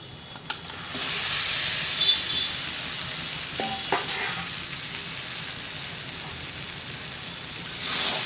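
Fried potatoes and pointed gourd sizzling in a spiced pan, a steady loud hiss of frying with faint stirring scrapes, continuing throughout without talk.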